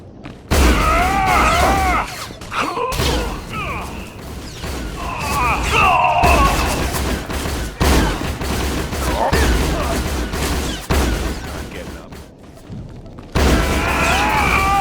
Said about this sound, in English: Mortar volley's pretty nifty for an area attack.